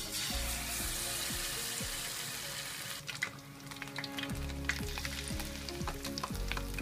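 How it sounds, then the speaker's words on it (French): Battered squid fries in hot oil with a steady, loud sizzle and crackle, with occasional bubbling pops and no talking. "je vais les plonger dans l'huile"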